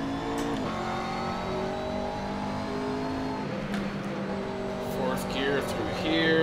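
A Blancpain GT race car in Assetto Corsa revs steadily at high pitch through a corner, with audible gear changes. Someone talks over the engine drone.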